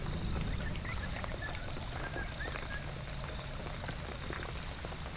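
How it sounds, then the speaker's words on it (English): Steady rain patters on wet grass outdoors, where magpies feed. The close, even hiss of drops holds across the whole stretch without pause, and nobody speaks. "With the rain increasing and the magpies not willing to roll around and wrestle on the wet grass"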